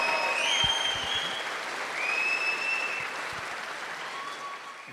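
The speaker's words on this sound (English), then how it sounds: "How about a round of applause?" Audience at a veterans' comedy awards show breaks into steady, full applause, a dense roomy wash of clapping with a few whistles and cheers, no speech over it.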